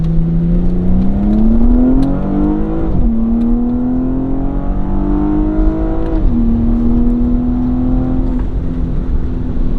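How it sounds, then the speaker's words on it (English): A Porsche 971 Panamera 4S fitted with a RaceChip tuning module pulls hard in second gear in sport mode onto a highway. Engine tone rises steadily, drops at a shift, then climbs again, heard from inside the cabin. "we'll drop it to manual and get a little second gear pull here up onto the highway"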